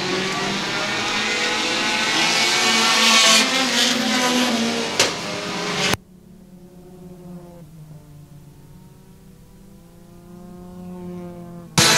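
4-cylinder enduro race cars roaring around a speedway oval, engines revving loud and close at first, then dropping abruptly to a more distant droning pack of cars with rising and falling engine tones.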